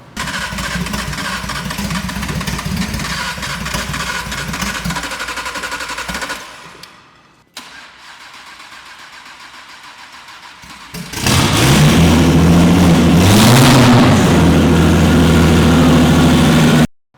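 A turbocharged VR6 engine swapped into an Audi S3 runs at a rough idle, cuts to near silence, then fires up again with a loud, choppy, close idle.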